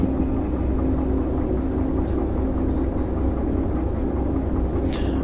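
A locomotive in the train simulator game Derail Valley gives a steady, loud low engine drone and rumble, unbroken and with no voices over it.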